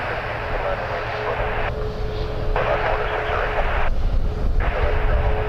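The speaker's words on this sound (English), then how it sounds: "Flare 637 off to Edmonton on a 737 MAX 8." A Boeing 737 MAX 8 jet taking off from Toronto Pearson airport, a broad roaring engine rumble heard from a distance that grows slightly louder toward the end.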